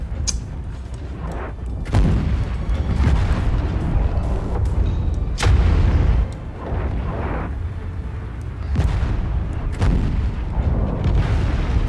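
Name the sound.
explosions in video game MechWarrior 5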